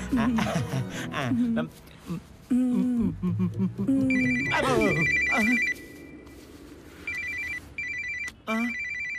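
A telephone rings in repeated electronic bursts in a comedy film scene, starting over talk and then sounding alone in short, regular rings near the end.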